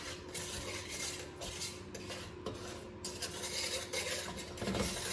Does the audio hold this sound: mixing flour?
yes